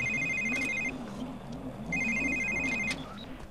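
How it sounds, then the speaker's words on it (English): A phone rings twice in The Sims 3, a bright electronic ringtone in two repeated bursts over steady game background sound. "Like his phone's ringing."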